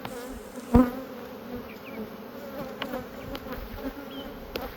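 Honeybees hum in a steady low drone at an open hive during a spring colony split, with a frame of brood and larvae lifted out; a sharp knock and a few faint clicks stand out over the buzzing.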